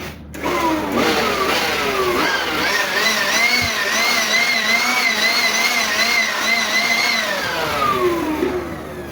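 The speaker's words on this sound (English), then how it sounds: "This is my blower. I want to blow inside" An electric air blower runs steadily for about nine seconds, blowing dust out of the inside of a UPS (uninterruptible power supply) during a battery change, with a loud, continuous whine whose pitch wavers slightly.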